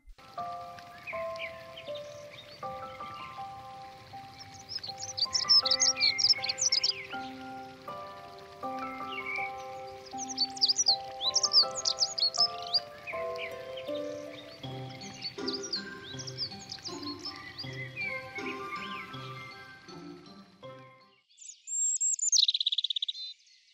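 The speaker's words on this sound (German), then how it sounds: "Der Gesang der Männchen umfasst nur wenige Töne und wird gern von einer Baumspitze aus" A robin, a male songbird, sings short phrases of a few high thin notes from a treetop, repeated several times over a steady background patter like light rain, with a louder sharp call near the end.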